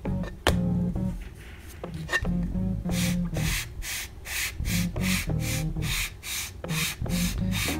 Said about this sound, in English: we want to take our sanding block and just square up all four fins